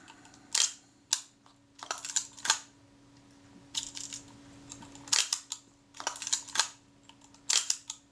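Shutter of a serviced Reflex IV camera firing repeatedly in crisp mechanical clicks, some single, some in quick pairs or bursts, close up against a quiet room with a faint hum.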